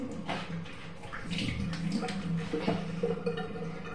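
Tap water runs steadily into a sink for face washing, a close continuous splashing stream with small irregular splatters.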